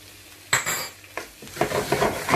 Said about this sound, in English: We're going to put in the garlic ginger paste.